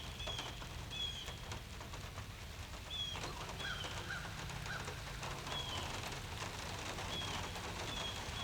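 Faint, steady patter of rain falling outdoors, with occasional distant bird chirps over the soft wash.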